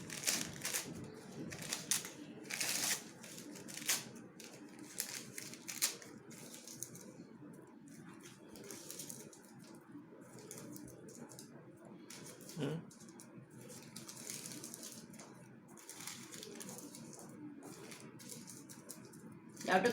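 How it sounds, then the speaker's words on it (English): Close, crackly rustling of paper being crumpled into balls for a craft, in bursts, with softer scrunching between and quiet talking underneath. "See here, I am crumpling."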